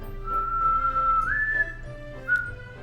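A person whistles a few sustained notes, holding a steady pitch and then stepping up to a higher one, with a short final chirp, close and clear over a faint background hum.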